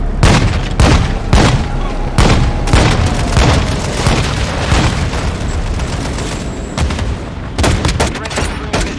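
Missile strike explosions and gunfire in Call of Duty: Modern Warfare 2, with repeated loud booms and sharp blasts over a constant rumble of battle.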